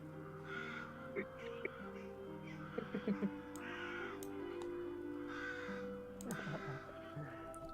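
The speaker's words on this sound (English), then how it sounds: "As 2 crows land in the tree that he's walking past." Two crows cawing as a sound effect during a tabletop role-playing game session, several harsh caws in short bursts over a steady low background hum.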